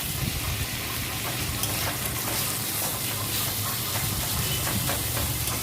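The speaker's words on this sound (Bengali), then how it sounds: "তারপরে এর মধ্যে পেঁয়াজ, রসুন ও কাঁচা লঙ্কার যে থেতোটা করে রেখেছিলাম সেইটা দিয়ে দিলাম এবং ভালো করে ভাজতে শুরু করলাম" A crushed paste of onion, garlic and green chili fries in hot oil for a prawn curry, giving a steady, dense sizzling hiss that stays constant and close throughout.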